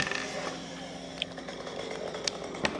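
An MS 193 chainsaw cutting wood during garage interior framing drones steadily in the background, a continuous buzzing whine with a few sharp clicks, fairly faint.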